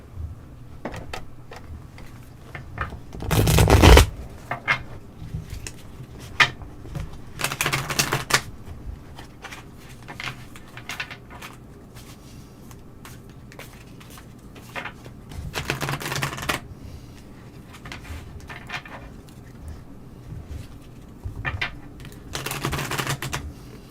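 Namaste Blessing oracle cards being shuffled, giving repeated crisp bursts of riffling and flapping at an irregular pace, some louder and closer than others, with quiet pauses between them and no talking.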